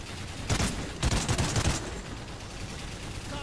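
Rapid machine gun fire in Call of Duty: Ghosts on the Atlas Falls mission, two dense bursts of crackling shots close together, the second longer, then a softer tail of distant battle noise.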